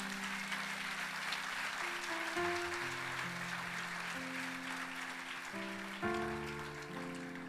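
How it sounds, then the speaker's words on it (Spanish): A church congregation applauds in a steady wash of clapping, heard under sustained keyboard chords that shift pitch several times. "Denle un aplauso fuerte a Él"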